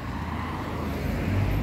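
A marshrutka minibus passes in daytime street traffic in Chisinau, Moldova, a steady, fairly close engine drone that swells slightly over its brief span.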